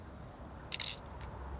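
A spray paint can sprays onto a wall while filling a mural or graffiti piece, giving a brief steady hiss followed by a couple of shorter, sharper bursts, fairly faint and close.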